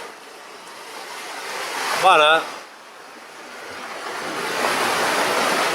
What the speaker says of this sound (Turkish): Kameranın arkasında dalgalar patlıyor.